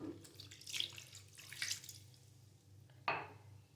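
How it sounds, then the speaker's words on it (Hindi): A cup of vinegar is poured over cut chicken pieces in a kitchen, giving faint splashing bursts of liquid, with a sharper final splash near the end. "अब हम इसमें डालेंगे 1 कप सिरका"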